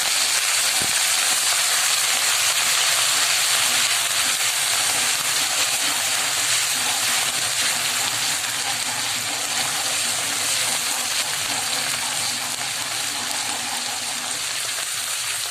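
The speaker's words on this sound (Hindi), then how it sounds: "लहसुन अदरक जो है इसको डाल के हम थोड़ा सा भूनेंगे ताकि अदरक का और लहसुन का कच्चापन जरा थोड़ा खत्म हो" Garlic and ginger sauté with onions in a pan for restaurant-style cauliflower, giving a steady broad frying hiss that holds evenly throughout, close and unbroken, with no talking.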